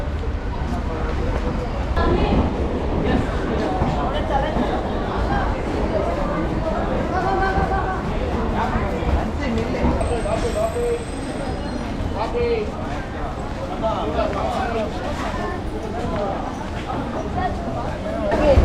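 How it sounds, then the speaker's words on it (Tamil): A MEMU local train rolls into Arakkonam railway station, giving a steady, loud rumble of wheels and carriages that runs throughout, with voices chattering over it. "இப்போ ட்ரெயின் உள்ள என்ட்ரு ஆகிறது தான் பார்த்தீங்கன்னா அரக்கோணம்"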